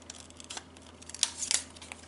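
Scrapbooking kit paper being cut with scissors, a few quick close snips and rustles, the last two sharper and louder.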